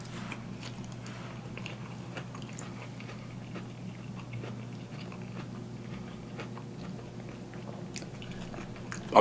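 Close, quiet chewing and biting of Peruvian lomo saltado beef, with soft crunchy, sticky mouth sounds repeating steadily over a low background hum and no talking.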